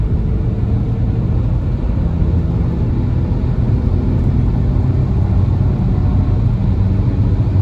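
A 2010 Subaru Forester accelerates hard up an on-ramp with the throttle floored, its engine and road noise forming a loud, steady in-cabin drone that holds at a constant level throughout.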